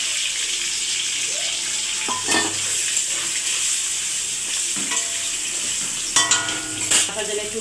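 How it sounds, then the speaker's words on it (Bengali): Paneer pieces frying in a wok, a steady bright sizzle throughout, broken by occasional spatula scrapes and clinks near the pan. "এই কড়াতে এবার আমি"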